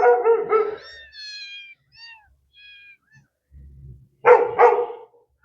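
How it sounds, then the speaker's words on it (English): A farm dog barks in two short, fairly close bursts, one at the start and another a few seconds later, with faint high chirps and quiet rustling between them. "I don't know what she's barking at."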